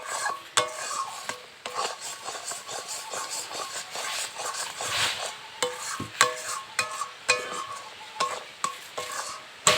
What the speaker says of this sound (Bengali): একটু ভালো করে মিশিয়ে নাড়াচাড়া করে নিই।